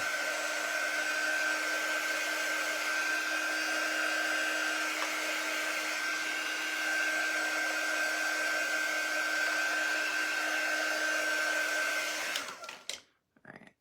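Hair dryer blowing steadily on pen ink on a wooden bunny door round, a loud close continuous whine with a high tone that runs unbroken, then switches off near the end.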